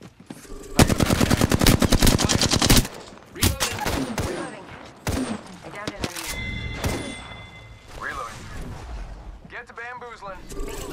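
Rapid automatic gunfire from Apex Legends, a dense loud burst for the first few seconds, then scattered shots, thuds and game effects, with a player talking over part of it.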